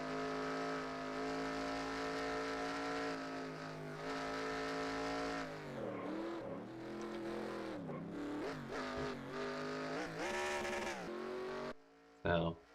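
A race car in NASCAR Racing 2003, running at Darlington, roars loudly at high revs, then lifts off with its engine pitch falling and wavering before a brief burst near the end, while commentators talk over it.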